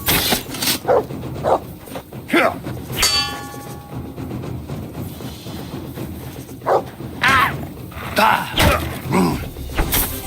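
A dog barking in the medieval game Kingdom Come: Deliverance 2: several sharp, separate barks spaced irregularly, mixed with loud metallic clangs and a slam, fairly close.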